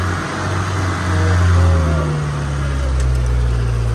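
A 4x4 engine running with the auto gearbox engaged gives a steady, close mid-range hum with a mild rise in revs partway through, heard alone without talk.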